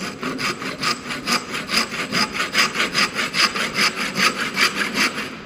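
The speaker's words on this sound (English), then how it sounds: "he make a saw cutting perpendicular to base surface" A hand saw cuts a wooden workpiece for a dovetail joint, making a loud, close, steady back-and-forth rasp in about a dozen even strokes with no speech.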